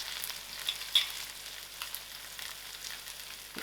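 Mixed masala spice blend frying in a pan for chicken tikka masala, a soft steady sizzle with a few faint clinks, quiet and close, no voices.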